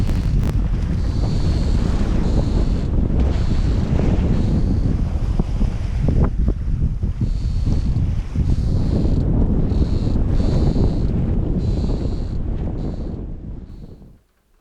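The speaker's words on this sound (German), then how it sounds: "der Wind dreht, kommt jetzt von vorne." Strong wind buffets and roars across the microphone aboard a sailboat in the Stockholm archipelago, with waves and rushing water beneath, loud and continuous, fading out at the end.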